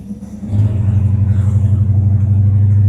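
A restored 1956 Chevrolet 210 coupe with Sniper EFI fires up and settles into a steady, deep, close rumble for several seconds, with no voices.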